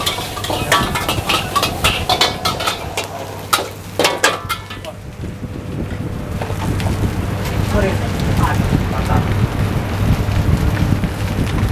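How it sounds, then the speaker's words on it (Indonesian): Seafood fried rice being stir-fried on a high-pressure stove, with loud sharp clanks of a spatula against the wok early on, then a steady roaring burner and sizzle filling the rest of the clip. "Mudah sekali proses pemasakan nasi goreng seafood."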